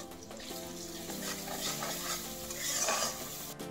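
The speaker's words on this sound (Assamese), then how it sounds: "তেলতে পিয়াজখিনি সিজাৰ পাছতে মছলাটো দি ল'ব লাগে আৰু ধুনীয়াকৈ ভাজিব লাগে" Onions and masala paste fry in hot oil while being stirred, giving a close, continuous sizzle with scraping stir noises throughout and a brief brighter hiss near the end.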